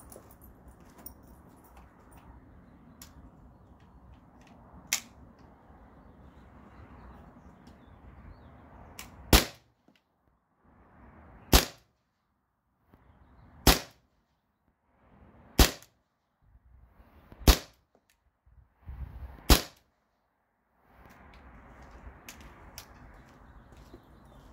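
Six sharp shots from a modded T4E TR50 rifle fired at a target outdoors, evenly spaced about two seconds apart, each a crisp crack over quiet background with faint ambient noise before and after.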